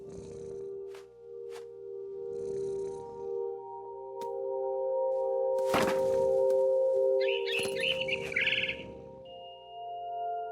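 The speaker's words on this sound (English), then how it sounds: "It was a barn swallow going back to her nest." Barn swallow in the video game What Remains of Edith Finch, a short burst of high chirps near the end over sustained ambient game tones, with soft rustling pulses and a sharp crack midway.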